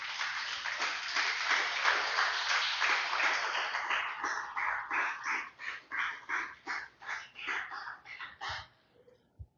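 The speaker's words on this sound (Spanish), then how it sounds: "Denle un fuerte aplauso al Señor Elías." A church congregation applauds, starting as dense, sustained clapping. It thins into distinct rhythmic bursts and then scattered claps that fade out near the end.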